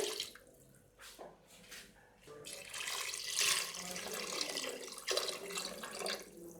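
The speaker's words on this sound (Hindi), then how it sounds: "प्रेशर कुकर के अंदर इतना पानी डालेंगे" Water pours and splashes steadily into a metal pressure cooker holding beef trotters, rising to a fuller rushing gush, close by and fairly loud.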